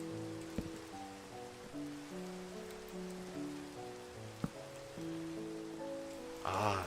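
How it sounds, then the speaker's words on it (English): Steady rain hiss under looping synthesized game music, with a few brief clicks and a louder rush of rain near the end. "And it's raining."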